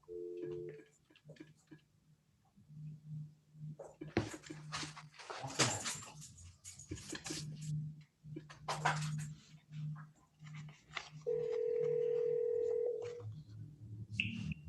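A telephone is dialed to put a caller on speakerphone during a district court Zoom hearing. Short electronic tones and a sustained beep sound amid voices talking and background noise.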